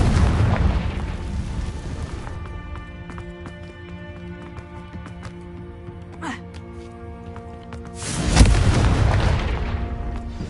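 A Confringo fire spell goes off in Hogwarts Legacy, with a loud, broad explosive burst near the end rising over continuous game music and ambience, after a brief whooshing sweep midway.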